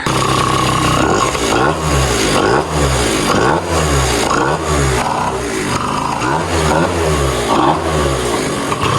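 A 2005 Yamaha Zuma scooter with a big bore kit revs repeatedly, loud and close, each blip rising and falling in a steady rhythm of throttle bursts with no one talking.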